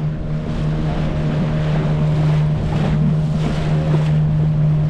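A boat rides through sea waves off the Goa coast, its engine droning steadily under continuous wind and rushing water, loud and close throughout with no talk.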